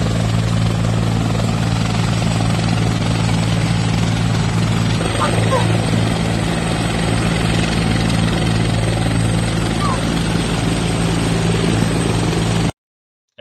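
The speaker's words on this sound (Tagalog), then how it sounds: "Ito po yung personal helicopter nila PBBM" A black personal helicopter of PBBM, one of several, flies overhead with a loud, constant rotor and engine drone that barely changes throughout, while a voice talks faintly beneath it.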